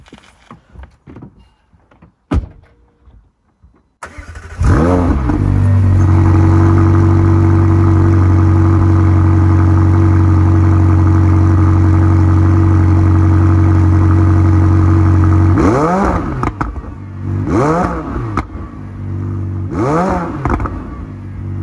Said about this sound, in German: dieser wunderschöne 4 Liter V8 Twin Turbo Sound